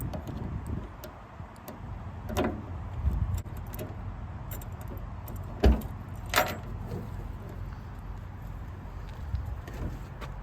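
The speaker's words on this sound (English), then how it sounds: "Let's go ahead and grab the keys a minute and pop the trunk." Keys jangling and the trunk of an abandoned one-owner Lincoln Mark V being popped open, with a few sharp clicks and thumps standing out over a steady low background rumble.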